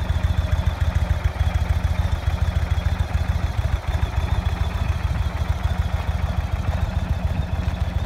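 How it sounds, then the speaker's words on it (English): A 2020 Indian Springfield motorcycle sits idling close by, its large engine throbbing in a loud, steady, rapid low pulse with a faint mechanical clatter and no voices. "Oh man, what a beautiful bike, guys."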